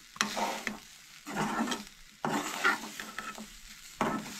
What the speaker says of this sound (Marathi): हे सगळे बरें परतून घेवंक जाय